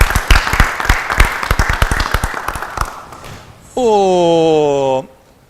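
A television studio crowd on an afternoon round-table show applauds the cameramen with close, dense clapping that fades over about three seconds, then a sustained electronic chime tone sounds alone.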